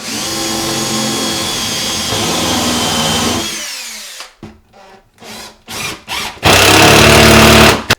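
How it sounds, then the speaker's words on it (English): A power drill whirs loudly and steadily as it drives into a tiny-house cabinet being fastened to the wall, then cuts off and gives several short bursts before a final sustained run. "Just take our drill, we'll kind of line it up with that line."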